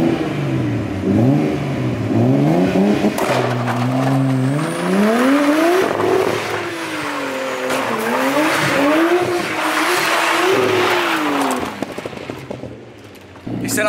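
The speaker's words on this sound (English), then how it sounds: "Sick drifting, cuz." A Nissan Skyline Tommy Kaira edition drifts nearby, its engine revving hard and rising and falling in repeated swells while the tires squeal loudly, before the noise eases off near the end.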